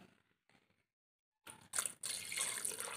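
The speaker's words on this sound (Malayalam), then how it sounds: "വേവാനായിട്ട് ആവശ്യത്തിനുള്ള വെള്ളം ഒഴിച്ച് നമുക്കത് കുക്കർ ക്ലോസ് ചെയ്ത്" Water is poured into a pressure cooker holding beef for a roast, a short splashing gush that starts abruptly after a few faint knocks and keeps running close by.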